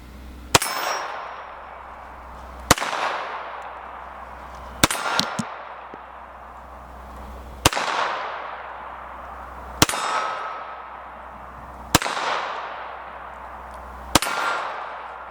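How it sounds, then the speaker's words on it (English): Seven sharp shots from a Colt pistol loaded with low-recoil rounds ring out at a slow, even pace about two seconds apart, each with a ringing, echoing decay. "I'm just gonna shoot a couple rounds. We'll just do some headshots with this low recoil."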